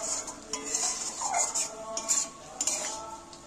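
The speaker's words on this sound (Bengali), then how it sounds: "মশলাটা আমি পটলগুলো তুলে দিয়ে ফের আমি ভালো করে কষিয়ে নিচ্ছি।" Pointed gourd being stirred into fried masala in a pan for a vegetarian potol dish: repeated close spatula scrapes and light metallic clinks over a faint sizzle.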